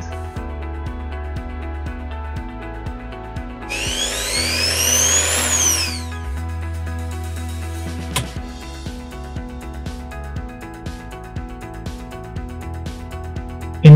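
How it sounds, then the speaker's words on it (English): An electric drill powered from an off-grid solar system's AC inverter outlet whines loudly for about two seconds midway, with steady electrical hum and small clicks around it. "So I plug an AC consumer like this drill, and it will let me use my AC equipment."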